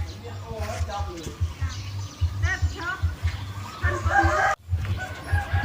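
Hens cluck repeatedly nearby while a rooster crows more than once on a rural Thai farm with ducks and cattle, with a person talking and low background noise throughout.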